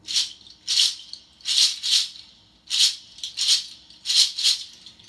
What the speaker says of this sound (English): And these shakers are called chakchas